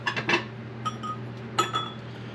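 Small pieces of glass clink lightly as they are handled, giving a few sharp, bright taps in quick clusters against a quiet, low hum, close by and with no talking.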